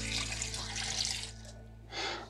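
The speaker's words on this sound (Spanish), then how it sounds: "Media taza de agua." Half a cup of water poured while cooking shrimp sopecitos, a short steady splashing pour that pauses and then resumes briefly, close and alone.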